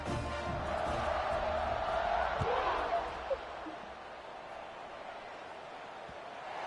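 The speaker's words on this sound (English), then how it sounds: "this crowd is buzzing after that last score" Football stadium crowd buzzes after a touchdown, a broad steady murmur and roar that holds for a few seconds, then eases to a quieter background hum.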